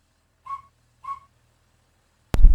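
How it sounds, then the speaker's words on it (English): Two short steam locomotive whistle bursts from a train simulator video game, clean tones sounding alone with a gap between them, followed by a sudden loud noisy thump at the end. "Whistle burst, which is V."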